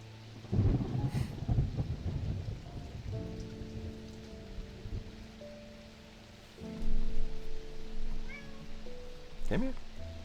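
A cat meowing in the video game Strange Antiquities, with a couple of short meows near the end over a soft musical background, after a burst of low rumbling at the start.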